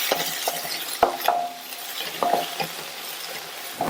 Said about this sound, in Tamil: இந்த வெங்காயம் 1 நிமிஷம் போல சிம்லையே வதங்கட்டும்.